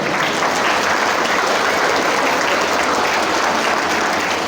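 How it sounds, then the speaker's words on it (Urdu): Sustained applause from an audience at an annual school result ceremony and religious celebration, dense and steady clapping filling the whole stretch without a break, loud and close. "اچھا جی, اب جو سن رہے ہیں وہ تالیاں بجائیں"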